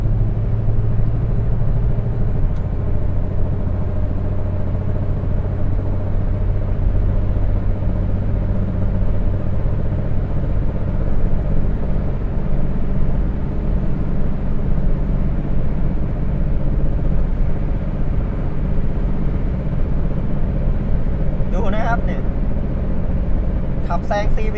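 A Toyota Corolla 1.6 engine hums and rumbles steadily while driving and accelerating, loud and continuous from inside the car, with a voice talking over it.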